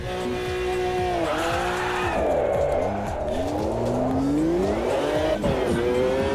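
A race car in Automobilista 2 spins a donut on cold tyres. The engine revs and falls while the tyres squeal and skid steadily and loudly, with almost no talk.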